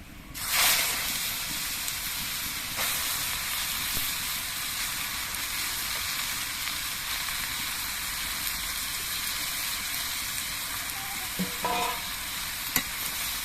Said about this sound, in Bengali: সর্ষেটা একটু ভাজা হয়ে যাওয়ার পর এর মধ্যে আমি পেঁপেগুলো দিয়ে দিচ্ছি